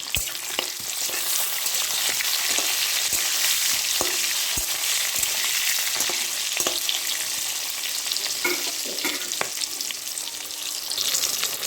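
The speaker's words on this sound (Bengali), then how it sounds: "তো পটলগুলো কিন্তু ভালো করে একটু ভেজে নিতে হবে প্রথমে ছিটকাচ্ছে" Pointed gourd (potol) pieces frying in hot oil with turmeric added, a steady loud sizzle with crackling spatters and pops and occasional stirring clicks throughout, no voices.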